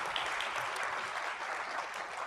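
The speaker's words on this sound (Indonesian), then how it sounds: "Kasih tepuk tangan dong buat mereka." An audience at a Sunday church service applauds the music team, a steady wash of clapping held at an even level, fairly close, throughout.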